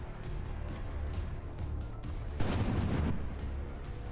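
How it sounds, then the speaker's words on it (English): An artillery volley fires during a battleship battle in the From the Depths video game, a short burst of booming over a steady low rumble, one clear blast roughly midway through. "We got another volley popping in there."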